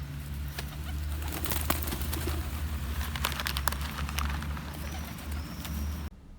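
Pigeons coo softly outdoors while being fed, with low throaty calls, scattered wingbeats and light bird chatter over a steady hum of surrounding ambience.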